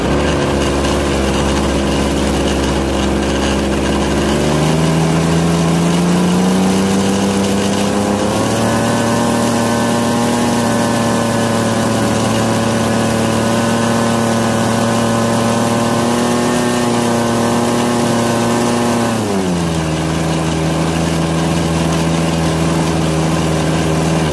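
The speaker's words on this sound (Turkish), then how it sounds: "İlk test için motorumu çalıştırıyorum" A motor driving a homemade alternator on its first test runs loudly and continuously, its steady drone shifting pitch upward then dropping back near the end.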